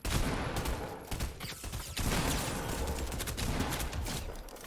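Dense, noisy gunfire in a video game firefight with snipers firing from several positions, sustained rapid shots and blasts that fill the whole stretch with barely a pause.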